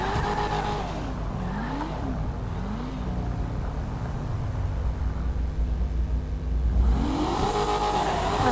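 A car engine revs and echoes in a tunnel, a booming, reverberant roar that sweeps up and down in pitch, swelling louder toward the end.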